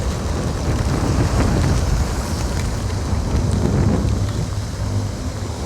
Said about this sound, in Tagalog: Ang lakas ng hangin.